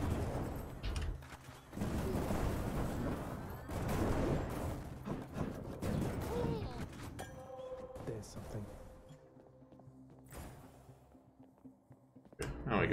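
Explosive shotgun blasts from the video game Hades fire in rapid bursts with clinking impacts, loud and dense for several seconds before thinning out, while a person talks over the action.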